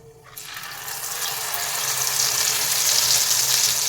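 Ground spice paste with whole cinnamon, clove and cardamom drops into hot oil with a sudden rush, settling into a loud, dense, continuous sizzle close by.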